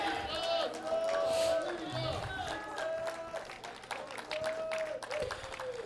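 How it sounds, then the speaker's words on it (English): A church congregation claps hard and shouts praise together, a lively mix of rapid handclaps and raised voices that stays loud and busy throughout. "give the Lord a good hand clap and a shout"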